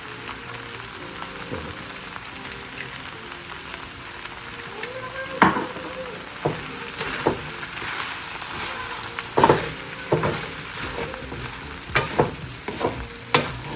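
Shrimp fried rice with a little soy sauce sizzles steadily in a pan while a utensil stirs and scrapes it in irregular clinks and knocks, close and loud, with no talking.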